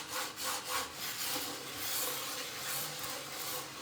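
Smooth rhythmic rubbing of a gaming mouse on a glass mouse pad, a few quick back-and-forth strokes followed by longer sweeping glides, close and fairly quiet.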